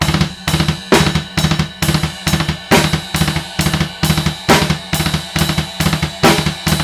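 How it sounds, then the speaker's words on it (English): Double bass drum pedals on a drum kit are played fast in a steady, driving stream of rapid kicks. Loud, close-miked hits run continuously under ringing cymbals, with regular accents marking each bar. "it's going to sound something like this when you start getting really quick with it."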